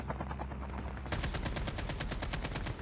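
Rapid bursts of automatic gunfire from the mobile shooter Call of Duty Mobile, a loud steady rattle of repeated shots starting about a second in and continuing to the end, with quieter game noise before it.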